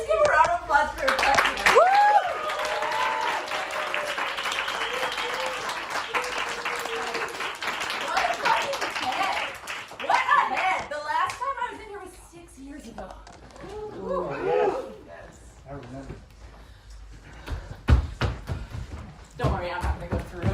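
Audience applause at a live event in a lab space, a dense crowd clapping that swells through the first half then thins into scattered claps, whoops and chatter, with a voice talking over the later part.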